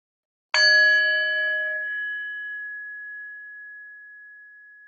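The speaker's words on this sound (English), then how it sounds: "taking the sound of the bell, following it to the end." A single struck yoga bell rings out clearly after a brief silence, its pure tone sustaining and slowly fading over several seconds, alone with no talk, during a chair yoga session.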